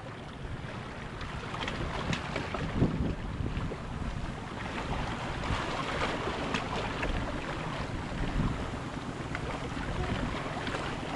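A small boat's 8-horsepower engine drones steadily on the open sea, blurred by heavy wind rumble on the microphone, with no pauses.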